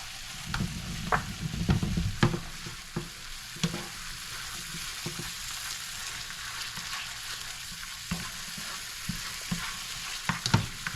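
Garlic frying in a pan with honey garlic wing sauce, a steady soft sizzle with occasional stirring clicks and scrapes, close and fairly quiet, with no talking.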